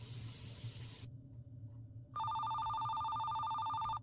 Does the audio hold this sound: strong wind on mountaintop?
no